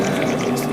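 A small water pump in a 1/144 Gundam island diorama pours a steady, close stream of water, giving an even trickling splash with no pauses.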